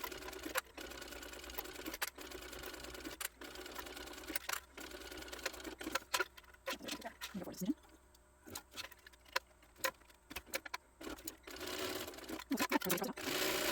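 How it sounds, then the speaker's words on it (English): A sewing machine top stitches around a Kaede hip bag made as a crossbody, running in short bursts of rapid needle chatter with brief pauses and quiet handling sounds between them. "now I am going to top stitch all the way around"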